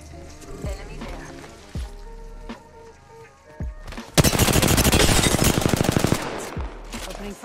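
Automatic weapon fire in the video game Apex Legends Season 11: a loud, rapid burst lasting about two seconds, preceded by scattered low thumps and game sounds, with a voice heard at times.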